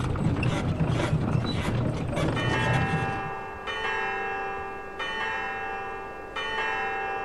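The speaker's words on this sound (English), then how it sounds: "that sounds like church bells, just like ringing for a Sunday morning or something" In the video game Syberia, clattering mechanical ratcheting gives way to clear ringing church bell tones, struck three times in slow succession, each chime sustaining and fading.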